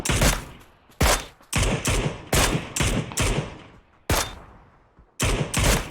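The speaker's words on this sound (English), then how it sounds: "Long range shots coming out here." Long-range gunshots from the PUBG battle royale game ring out as a series of about ten loud, sharp cracks in uneven rhythm, each trailing off in a decaying echo.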